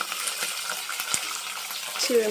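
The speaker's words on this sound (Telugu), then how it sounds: "ఫస్ట్ ఫస్ట్ ఆనియన్ వేసేసుకున్నాను" Onions fry in a pan for gongura curry, giving a close, steady sizzle with light crackles and a few stirring scrapes, and no voices.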